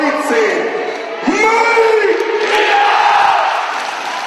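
Crowd in the stands at an ice hockey gala game at Kassel's ice rink chanting the number 13 in loud, sustained unison shouts that swell and hold over several seconds.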